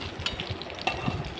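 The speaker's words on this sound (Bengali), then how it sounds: "দেখুন এইভাবে পটলটাকে গোটা গোটা ভেজে নেবেন।" Whole pointed gourds (potol) frying in oil make a close, steady sizzle broken by small crackles and a few sharper spatters, with no one speaking.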